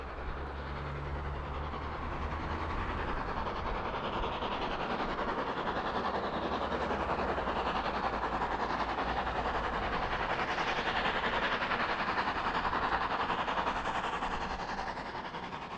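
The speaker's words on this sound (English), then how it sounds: "The Swanage Railway in the shadow of Corfe Castle is one of the most scenic routes in Britain, and it's also a working railway" An M7 steam locomotive hauls a train along the Swanage Railway near Corfe Castle, giving a loud, continuous rumble and clatter of wheels on track that stays close and steady throughout.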